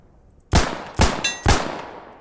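A British Webley revolver fires three loud, sharp shots about half a second apart, the first in single action and the rest double action, each blast ringing briefly with a metallic clang on the second.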